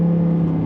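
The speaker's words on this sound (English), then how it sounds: "You got that V10" Lamborghini V10 engine humming at a steady pitch, a brief loud drone with strong low tones and no audible rise in revs.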